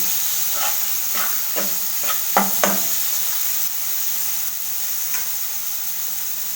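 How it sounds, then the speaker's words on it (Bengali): Spices sizzle in a pan for an egg and papaya curry, a steady close hiss broken by a handful of soft knocks and scrapes from the stirring spoon, with no voices. "এইভাবে মশলা দিয়ে নাড়াচাড়ি করব, একটু ঘন ঘন নাড়তে হবে যাতে মশলাটা না লেগে যায়"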